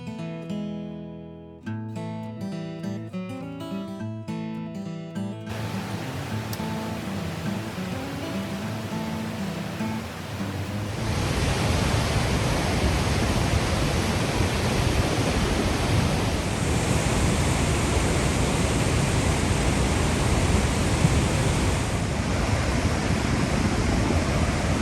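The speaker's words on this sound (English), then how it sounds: "These waterfalls splash on the rocks below, spraying mist everywhere." Nevada Fall and Vernal Fall on the Mist Trail in Yosemite pour onto rocks in a dense, steady roar of splashing water that enters after a stretch of music and fills the rest alone.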